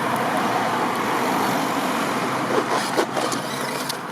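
A Bigfoot RC monster truck runs down a road, its small electric motor whining over steady outdoor background noise, with a few sharper bumps and rattles near the end as it travels along.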